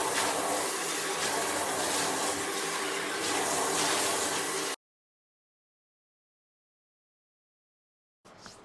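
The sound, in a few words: water poured from a bowl over bathtub sides to rinse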